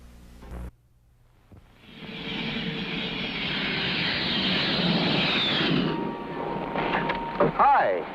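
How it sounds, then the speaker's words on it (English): A Grumman Tiger jet engine in a vintage radio advertisement roars up after a brief click and quiet gap, holding a loud, steady rushing whine before dropping away into a short tonal sweep. "this is my friend, the Grumman Tiger. It's a jet"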